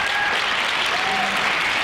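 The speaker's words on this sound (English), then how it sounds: "the applause tells you everything" Audience applause fills a public meeting room, a steady dense wash of many hands clapping at once, loud and continuous throughout with no pauses.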